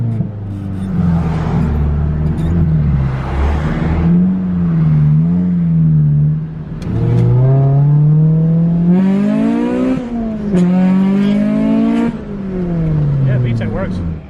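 A Honda Civic EG hatchback drives past nearby, its engine revving up through the gears with a rising, buzzing pitch as VTEC engages, loud and close, with a voice speaking over part of it.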